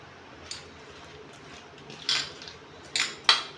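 A metal kadai wok is set down on a stove, giving a few sharp clanks and scrapes spaced across the moment, close and fairly crisp against a quiet kitchen.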